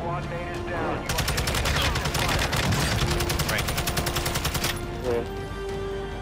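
Rapid sniper and automatic gunfire in a multiplayer shooter video game, a dense close burst of repeated shots lasting several seconds, with quieter game sounds before and after.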